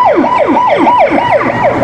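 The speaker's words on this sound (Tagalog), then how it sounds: "may ambulansya dumadaan." A loud ambulance siren wails in a fast repeating up-and-down pattern, close and dominant, as it passes along a city street near a shopping mall.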